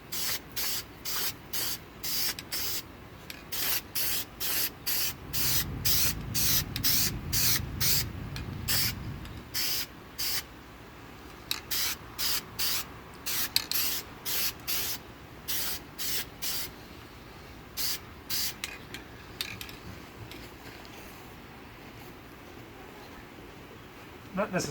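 A spray paint can hissing onto a GI Joe figure in short repeated bursts, some longer, with a few pauses between them.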